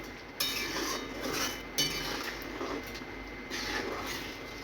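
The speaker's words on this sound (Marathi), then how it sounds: "चवीनुसार मीठ आणि बारीक चिरलेली कोथिंबीर आता मिक्स करून घेऊया" A spoon scrapes and clinks against a pot while stirring salt and chopped coriander into a potato curry, a few soft metallic taps and scrapes close by over quiet background.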